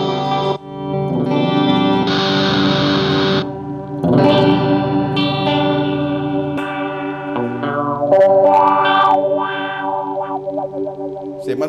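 Electric guitar, a GTRS S900 played through a wireless system and a Cry Baby wah pedal, rings out loud and distorted with sustained notes and chords that swell and shift in tone, washed in chorus and echo, with no talking.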